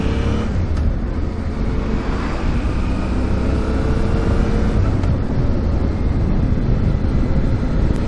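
A Yamaha Ténéré 700 motorcycle on a village road gives a steady, continuous engine roar and low rumble mixed with broadband wind noise for the whole stretch, with no voices.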